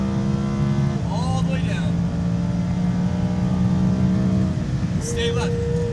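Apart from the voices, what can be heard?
Lamborghini Huracan accelerating and upshifting on a race track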